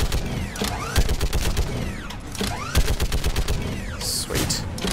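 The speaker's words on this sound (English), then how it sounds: "I love this gun. I love this turret thing." Turret gunfire in Mass Effect 3 during the Palaven mission on PC: rapid, loud automatic bursts with mechanical whirring and sweeping tones between them, close up and repeated over several seconds.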